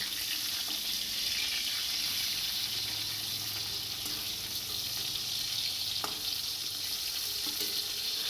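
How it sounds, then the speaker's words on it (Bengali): Pointed gourd (potol) slices frying in oil in a home Bengali kitchen, a steady close hiss of sizzling running throughout, with a soft clunk near the end as pieces are turned. "এক পিট হয়ে গেছে আর এক পিট উল্টে দিচ্ছি"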